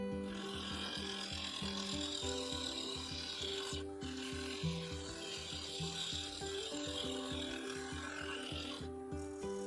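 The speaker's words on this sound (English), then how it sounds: "the blank was spinning at full speed, the carbide finisher made easy work of shaping the base" Carbide finisher scraping the base of a wood bowl blank spinning at full speed on a lathe, giving close, rhythmic rasping cuts over a steady motor hum, with two brief pauses.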